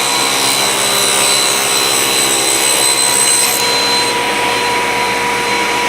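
Power saw cutting a sample tenon on a rocker part, a loud steady whine that holds for several seconds and drops off partway through as the cut finishes, with no talking.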